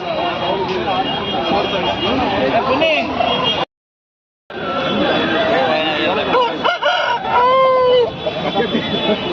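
An Aseel rooster crows amid busy noise and overlapping voices at the Kundarapalli market in Krishnagiri District, with a short gap of silence partway through.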